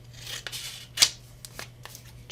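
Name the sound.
trimming folded paper with scissors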